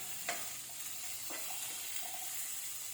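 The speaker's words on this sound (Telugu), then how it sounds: "అప్పుడు ఉల్లిపాయలు కొంచెం కలర్ చేంజ్ అయ్యే వరకు కొంచెం ఫ్రై చేయాలండి నూనెలో." Onions frying in oil in a pan for sambar with drumsticks, a steady, faint sizzle with a few soft stirring scrapes, no voices.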